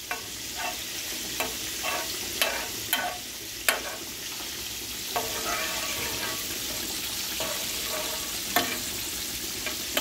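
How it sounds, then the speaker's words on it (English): Onions frying in a pan, a steady close sizzle with scattered sharp spatters and a few stirring clicks, no talk over it. "we got our onions on here"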